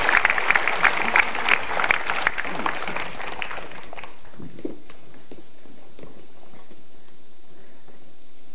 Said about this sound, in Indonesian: Bapak Ibu kita boleh tepuk tangan untuk dua veteran kita